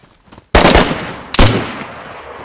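Two loud, sharp gunshots ring out close by in DayZ, spaced under a second apart, each followed by a short decaying tail.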